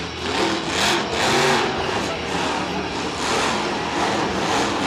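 A monster truck engine at Monster Jam in MetLife Stadium (2013) roars steadily for several seconds with surging revs, mixed with loud arena crowd noise and a commentator's voice.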